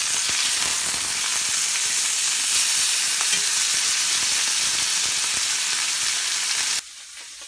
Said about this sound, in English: I'm gonna add my steak down in here. And I'm gonna cook it for my preference for about 4 minutes per side.